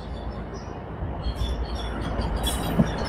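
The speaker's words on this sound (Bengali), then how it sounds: "আমাদের ট্রেন চলে এসেছে।" A Budgam–Banihal Vistadome passenger train pulls into a station platform near Srinagar, a brief low rumble of wheels and carriages with faint background voices on the platform.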